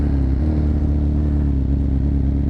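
BMW S1000RR superbike firing up from cold, its exhaust settling into a loud, steady, rumbling idle that fills the whole moment, close by and unbroken, outdoors in sunshine.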